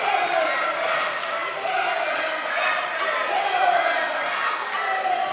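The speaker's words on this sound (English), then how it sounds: "The crowd's trying to get behind him." A wrestling arena crowd roars and cheers in a continuous, dense wash of voices that stays at an even level without breaks.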